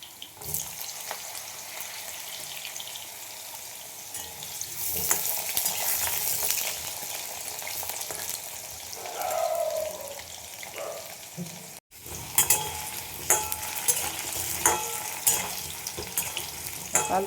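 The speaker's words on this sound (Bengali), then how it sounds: "আলুগুলো লাল লাল করে ভেজে নিচ্ছি আমি" Cut potatoes fry in hot oil with a steady sizzle and crackle, with occasional stirring clinks and a brief cut partway through. A voice talks faintly underneath at times.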